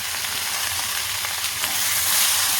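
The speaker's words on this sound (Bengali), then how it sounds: "একটু লবণ আর একটু হলুদ দিয়ে একটু ভেজে নেব" Dried fish sizzles and crackles as it fries in a pan with salt and turmeric, a steady close hiss with occasional faint stirring scrapes and no voices.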